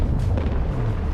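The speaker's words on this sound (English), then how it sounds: "A battery explosion." A battery blowing up in the artillery strategy game Forts, a loud deep booming blast with a low rumble that fills the whole short moment, and no talking.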